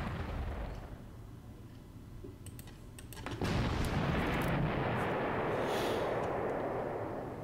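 88 mm guns firing in the video game Operation Sealion: scattered clicks, then a heavy boom that opens into a sustained rumbling roar.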